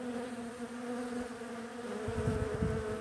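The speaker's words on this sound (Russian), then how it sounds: "В обед пчел еще больше собралось, чем снимал 2 часа назад." Bees hum steadily around flowering Garibaldi hazelnut catkins shedding pollen, a dense continuous buzz of many insects, close and moderately loud, swelling near the end.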